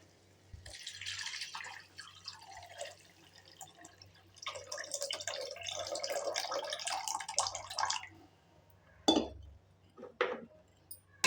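Tamarind water splashes and pours into a cooking pot of South Indian fenugreek curry in two close, fairly quiet bursts, followed by a few scattered drips and clinks.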